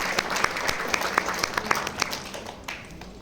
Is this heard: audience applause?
yes